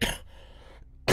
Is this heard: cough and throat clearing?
yes